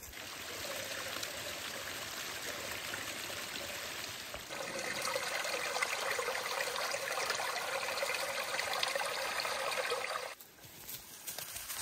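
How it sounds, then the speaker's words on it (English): Water rushes steadily into a wilderness lake at its main inlet in Alaska, a continuous broadband stream sound that swells louder midway, with no talk. "there's a lot of water coming in."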